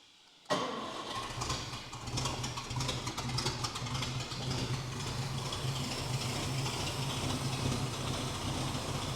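A 1949 Chevrolet Deluxe engine cranks and catches abruptly, then settles into a steady, even idle with a deep low rumble that holds through to the end.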